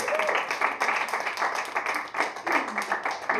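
Applause from a gathered audience, a dense close patter of many hands clapping steadily without a break, with faint voices mixed in.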